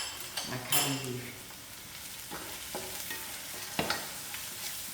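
Masala with curry leaves cooking in a pan for soya chunks with cabbage, a soft continuous sizzle with occasional spatula scrapes and a light metallic clink near the start.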